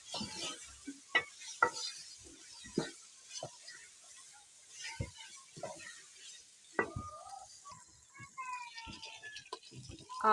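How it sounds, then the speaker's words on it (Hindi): Potato and eggplant pieces stirred through masala in a pan make sparse scraping, clattering knocks and soft sizzle, fairly quiet and intermittent, with stretches of near silence between strokes. "आलू बैंगन को हमने अच्छी तरह से मसाले में मिक्स कर लिया है माशाल्लाह, भून लिया है।"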